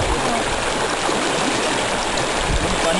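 River water in Snowy River National Park rushing and flowing, a steady, close, full hiss of current without pause and no clear talk.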